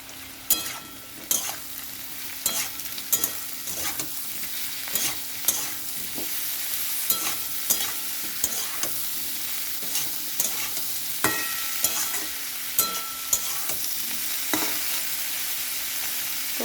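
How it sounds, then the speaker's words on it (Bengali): Cauliflower and potato frying in a pan, a steady sizzle broken by repeated clinks and scrapes of a spatula stirring, close and moderately loud. "আলুকপিটা খুব ভালো করে ভাজতে হবে তো কপিটা ভেজে নিয়েছি খুব ভালো করে"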